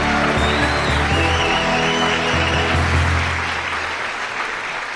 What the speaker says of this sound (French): Les gars, applaudissez pour les éléphants!